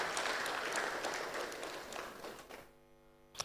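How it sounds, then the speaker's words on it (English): A forum audience at the British Council in Accra applauds a speaker in a sustained round that gradually tapers off toward the end. "Please, a round of applause once again for Dr."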